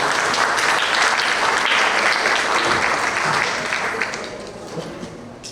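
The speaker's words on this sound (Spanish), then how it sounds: "Aplausos para ella." Audience applause at a tourism forum, a dense, loud wash of clapping that holds steady and then tapers off gradually toward the end.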